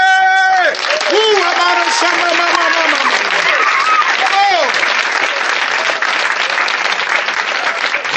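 A church congregation applauding together, loud dense clapping that carries on steadily with voices and cheering mixed in.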